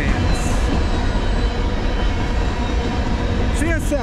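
CSX M406 freight train passing close by, a loud, steady rumble of rolling cars and wheels that holds throughout, with squealing wheel tones rising near the end.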